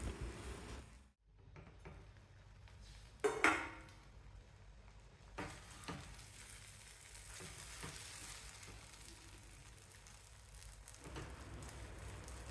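Brinjal sizzles in a pan, a soft, steady frying hiss close by and fairly quiet, with a short clatter of stirring partway through and a brief drop near the start, no speech.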